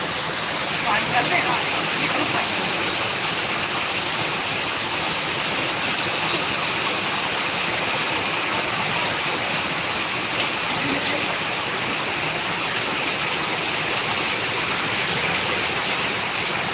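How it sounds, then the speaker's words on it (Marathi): Extreme heavy rain in Karnataka roars in a constant, loud wash of noise throughout, with voices faintly present beneath it. "मित्रांनो पाऊस पहा पाऊस पाहू शकता"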